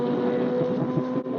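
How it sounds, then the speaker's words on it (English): Kawasaki Z900 motorcycle with an Aero full-system exhaust, a loud, close, droning engine note with a brief dip near the end. "let's get an ASMR video of his Z900 with aero full system exhaust"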